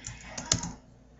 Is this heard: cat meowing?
no